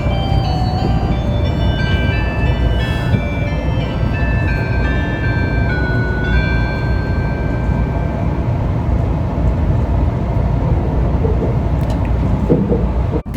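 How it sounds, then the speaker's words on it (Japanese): Onboard melody chime on the Resort Shirakami train, a tinkling sequence of bright tones playing over the loud, constant rumble of the moving train. "そして響くこのチャイム"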